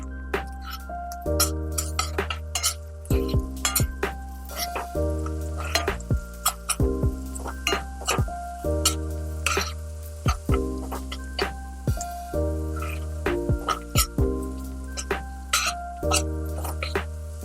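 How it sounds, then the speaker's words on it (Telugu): Masala with black pepper powder fries and gets stirred in a pan, a steady sizzle under repeated clinks of the spoon against the metal, with a hum running beneath. "ఈ మసాలా ఫ్రై చేద్దాం కాసేపు"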